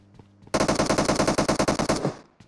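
Sustained automatic gunfire in PUBG Mobile, a rapid, evenly spaced burst of loud shots lasting about a second and a half before cutting off, with faint game ambience before and after.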